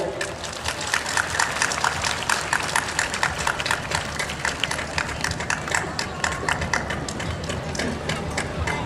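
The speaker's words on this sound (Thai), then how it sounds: "ขอเชิญทุกท่านปรบมือด้วยครับ" An audience claps together at a temple festival opening ceremony in Sukhothai province, Thailand, a steady, fairly close patter of many hands that keeps going throughout.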